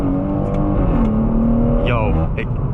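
Stage 2 tuned BMW M140i with over 400 bhp accelerating hard from about 20 mph, engine note climbing steadily in a loud close drone as someone talks over it.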